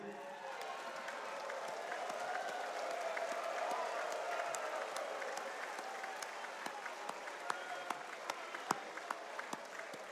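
A standing crowd at a political gathering in Kelantan gives sustained applause, a soft, fairly distant wash of many hands with scattered sharper claps, steady for ten seconds and tapering slightly toward the end.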